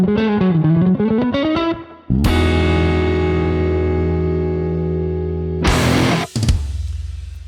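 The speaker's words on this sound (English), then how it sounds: "Today we're going to be checking out the T-120 Videotape Echo from Demedash" Demedash T-120 Videotape Echo V2 effects pedal: a gliding, wavering guitar phrase gives way to a long sustained chord that swells and slowly decays, then a sharp burst of effected, distorted noise cuts in near the end, with no talking.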